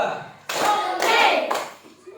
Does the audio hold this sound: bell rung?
no